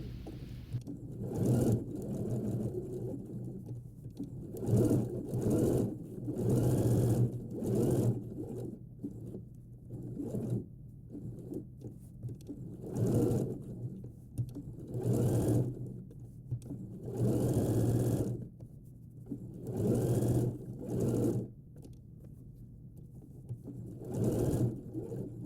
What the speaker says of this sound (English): So you sew all the way around, and you should do a few stitches